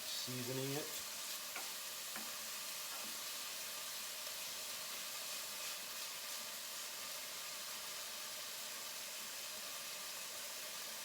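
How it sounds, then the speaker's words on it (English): Pancetta browns in a pan for bucatini all'amatriciana, giving a steady, dense frying sizzle and hiss that runs unbroken throughout, with a few faint utensil taps near the start. "We're going to let the pancetta brown until it gets a little crispy"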